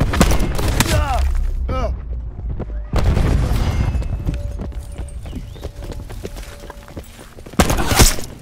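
A cluster grenade in Call of Duty Black Ops 4 bursts as a cluttered run of sharp, close impacts over a busy battlefield. A final, louder pair of blasts hits near the end, and voices come and go underneath.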